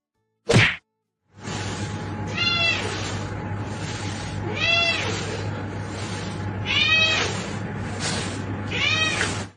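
A cat meows several times in drawn-out cries over a steady low hum, preceded by a single sharp thwack.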